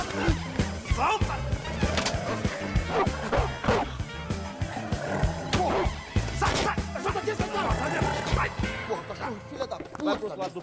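A dog barks repeatedly near a building, loud and close amid a busy, chaotic scene, with people shouting and talking over it throughout.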